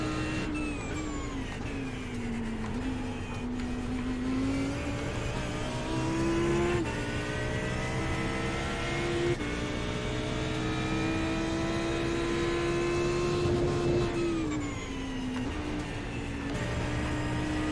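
An Audi GT3 race car's engine drones loudly from inside the cockpit at Oulton Park, rising and falling in pitch through gear changes and throttle shifts as another car closes in to pass.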